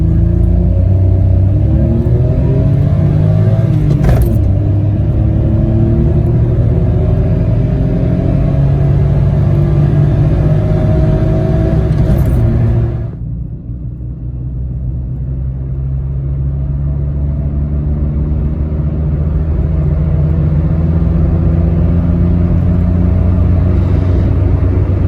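A Citroen C1 petrol hatchback accelerates hard from a standstill, its engine note climbing steadily, dropping at a gear change, then building again, loud and close from inside the car.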